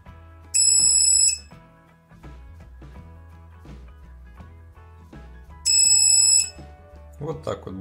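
A JHE42B-S standalone quadcopter locator buzzer sounds two loud, high-pitched shrill beeps of about half a second each, well apart, over a quieter background of music.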